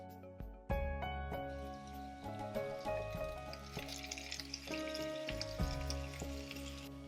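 Carrots and beans with a little tomato sizzle and fry in a pan, a close, steady crackle broken by stirring clatters of a spoon against the pan, with music tones underneath.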